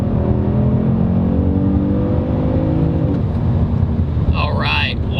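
A Kia Stinger GT accelerates hard, its engine note climbing in pitch as the car gathers speed, loud and close throughout, with a voice briefly speaking near the end.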